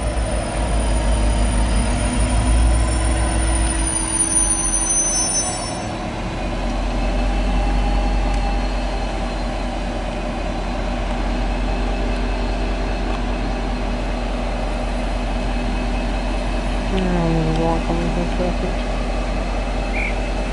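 V/Line locomotive N474 hauling VN19 carriage sets rumbles past at full power, a loud steady low engine drone with rail noise throughout, a horn-like tone late on, and a person talking briefly over it.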